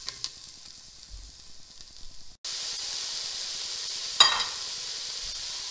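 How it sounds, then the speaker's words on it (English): Finely chopped garlic, three or four cloves, sizzling in a pan for vegetarian pasta: quiet at first, then a sudden steady hiss that stays even, with one brief crackle partway through. "I'm going to add my garlic, about 3 or 4 cloves of garlic finely chopped"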